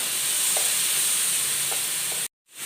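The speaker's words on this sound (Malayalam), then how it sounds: "നല്ലതുപോലെ ഒന്ന് വഴറ്റി കൊടുക്കാം" Pureed tomato sautéing with spices in a pan for matar paneer masala, a steady close sizzle with faint scraping stirs, cutting off abruptly near the end before the hiss resumes.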